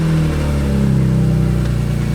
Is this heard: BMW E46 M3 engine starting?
yes